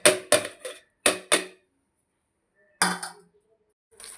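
Ingredients for chintamani pachadi are tipped into a mixer jar, with several sharp clattering knocks and rattles in two bursts around a short silence.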